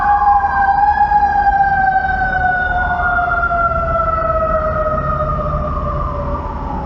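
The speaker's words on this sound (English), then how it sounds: "And we'll wait for the sirens to stop." Loud wailing fire engine sirens, with overlapping tones slowly sliding down in pitch, continuous and nearby throughout.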